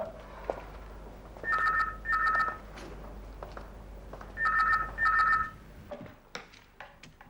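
A telephone rings in two pairs of electronic trills, separated by a pause, with faint clicks and background sounds around them.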